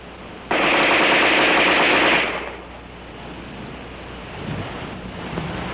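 An Armalite AR-10 rifle fires a loud, rapid automatic burst of just under two seconds during a sand test, followed by a windy, rushing outdoor background.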